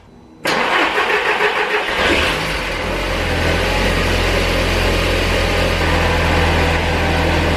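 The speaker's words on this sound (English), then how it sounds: "so it's running, but there's still a bit of a misfire going on" An Audi TT engine that has just been started, running at idle with a slight misfire after a thermostat and temperature sensor change. A loud start gives way to a steady, sustained idle drone that lasts throughout.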